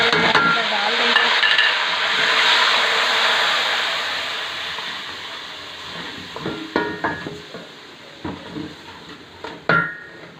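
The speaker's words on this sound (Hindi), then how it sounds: "मसाले को हम अच्छे से फ्राई कर लेंगे" Steady broadband sizzling from a hot pan of frying spice masala for several seconds, fading as scattered scraping and clanking stirs sound at close range, with no talk.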